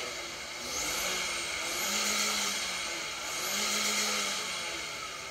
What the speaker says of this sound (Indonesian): sekarang kita sambil gas ya dengerin suaranya ya dari sini